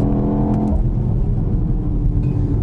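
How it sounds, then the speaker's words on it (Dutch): A BMW X2 accelerates hard and shifts up, its engine note dropping at the shift, with a steady road and tyre rumble throughout. "Je zware dreunen bij het opschakelen."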